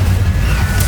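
The Incendio fire spell is cast in Hogwarts Legacy on PS5, giving a loud, dense roaring blast with a heavy low rumble that holds steady for under a second.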